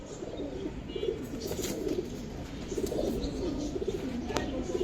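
Giribaz pigeons at a pigeon farm cooing in low, repeated throaty bursts over a steady background hum, with faint chirps and a brief sharp click near the end; no talking.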